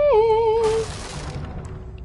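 Objects smashing in the horror video game The Evil Within, a tonal warble cut off by a bright shattering crash that rings out and fades over about a second, no talking.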